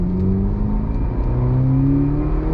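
Ferrari GTC4 Lusso T V8 engine accelerating on the road, a continuous deep rising growl with climbing harmonics, heard from inside the car, no voices.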